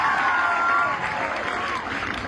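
A school audience at Noonkopir Secondary School applauds a member of parliament with steady, dense clapping, and a few raised voices rise over it before the clapping thins slightly toward the end.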